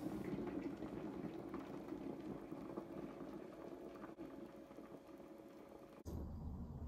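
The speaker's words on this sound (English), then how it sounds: "so I better put the kettle on" An electric kettle heats water to a boil, giving a steady rushing, bubbling roar that holds evenly close by for several seconds with a brief dip near the end.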